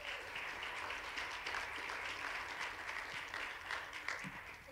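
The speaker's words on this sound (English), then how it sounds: "Let's give them a round of applause." Steady applause from an audience at a church gathering welcoming two outreach directors to the stage, dense and sustained for several seconds with no speech over it.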